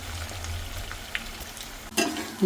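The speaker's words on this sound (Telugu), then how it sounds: "ఆలులన్నీ వేసేసుకోవడం అయిపోయింది ఇట్లా కలుపుకోవాలి ఒకసారి" Potatoes frying in a pan make a soft, low sizzle, with a few light scrapes as they are stirred and a sharper clatter near the end.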